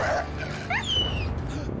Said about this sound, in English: Don't hurt the doggy.